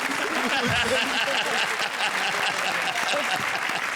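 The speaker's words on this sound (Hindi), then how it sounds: "please welcome with a huge round of applause" Sustained, dense clapping from a large comedy show audience, steady and loud throughout with no pauses.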